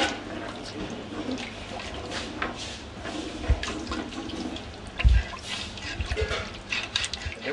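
Fish stock and mussel liquor are poured into a soup pot, giving a soft, continuous splashing and trickling of liquid with a couple of dull knocks, close by and fairly quiet.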